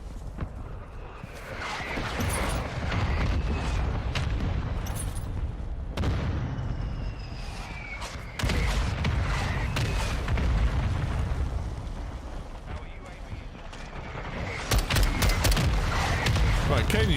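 Missile strikes and explosions from the Modern Warfare 2 video game boom and crackle repeatedly over a dense wash of gunfire and battle noise, loud throughout, with sharp bursts around the middle and end.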